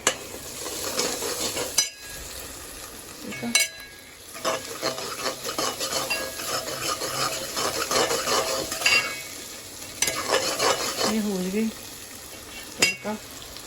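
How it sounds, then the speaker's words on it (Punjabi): Steady sizzling and frying of a tempering in a hot pan with a utensil stirring and scraping, a few sharp clinks, and a voice speaking briefly near the end. "ਲਓ ਜੀ ਇੱਧਰ ਲੱਗਦਾ ਪਿਆ ਆ ਤੜਕਾ"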